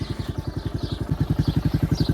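Motorcycle engine idling near a farm gate at a dairy, a close, loud steady chugging beat with even rapid pulses that swell slightly louder midway.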